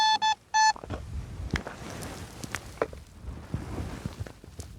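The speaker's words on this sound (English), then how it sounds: "In this area, about 10 feet from the burnt Joshua, I get dozens of hits with the detector." A metal detector sweeps over excavated desert dirt at a drone crash site near Area 51, giving a few short, bright electronic beeps on hits at the start, followed by soft crunching and scuffing on the ground.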